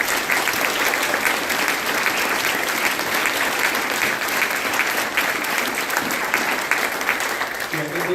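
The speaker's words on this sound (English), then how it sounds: "why don't we just give a big round of applause for all of the candidates." Sustained audience applause for the candidates in a countywide election race, a dense, steady wash of clapping from a crowd that holds at an even level throughout.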